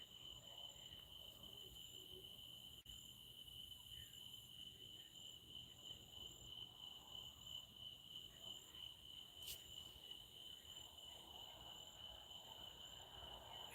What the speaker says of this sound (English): You don't listen to these crickets.